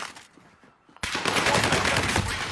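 A burst of automatic gunfire erupts in a battle royale video game match, loud dense rattling shots after a brief quieter lead-in with faint scattered pops, no voices.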